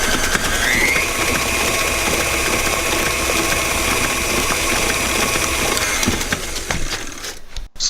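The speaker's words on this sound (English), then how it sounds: "Then turn your mixer back on, medium speed, for about 1 minute." An electric stand mixer runs at medium speed, mixing a banana chocolate loaf batter with a loud, steady whirring hum that holds throughout and cuts off abruptly at the very end.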